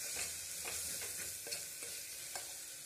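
Mint and coriander fry softly in a pan for mushroom biryani under a faint, steady sizzle, broken by several light scraping strokes of a stirring spoon. No one talks.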